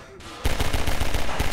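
A thrown grenade detonates in Half-Life 2, a sudden loud blast breaking in after a quiet moment and followed by rapid, rattling bursts of gunfire-like crackle.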